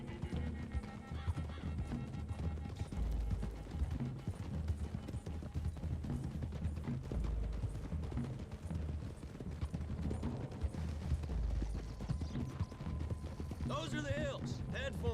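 Horses gallop with steady, rapid hoof clip-clops and occasional whinnies, set against a continuous background of game music and ambient noise.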